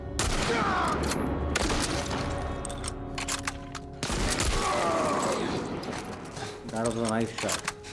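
Gunfire in The Last of Us Part I, with dense broadband bursts of shots in quick succession that are loud and close, over game ambience and mechanical clicks.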